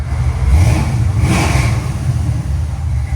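A 1966 Chevy Chevelle SS with a 498 V8, headers and a Flowmaster 40 exhaust revs loudly and continuously, its deep engine rumble rising to a sharper burst of throttle midway before settling back to a heavy, steady roar.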